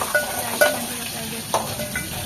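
Mustard seeds crackling in hot oil in a pan for a ridge gourd curry, a few sharp pops scattered over a soft frying hiss, close and fairly quiet.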